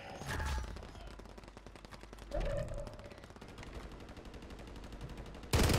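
STG44 assault rifle fire in Warzone on Rebirth Island, rapid automatic bursts crackling in a steady rhythm through most of the stretch, with a few louder shots standing out.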